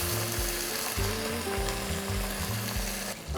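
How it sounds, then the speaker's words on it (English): Red wine hitting a hot pan to deglaze it while cooking short ribs, a loud, steady, close sizzle and hiss with periodic stirring scrapes underneath. "I'm gonna add in some red wine to deglaze this."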